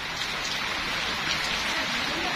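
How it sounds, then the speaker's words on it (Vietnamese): Heavy rain falls steadily outdoors, a dense, even hiss of drops striking surfaces that holds at a constant level throughout with no voices. "tự dưng trời lại mưa anh em. Mưa tầm mưa tá luôn."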